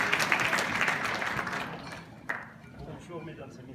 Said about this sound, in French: On applaudit Monsieur Halimi